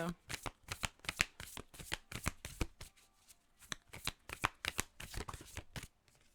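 A deck of cards is shuffled for a reading in rapid bursts of crisp riffling and slapping, close and clear, with a short pause midway before the shuffling resumes.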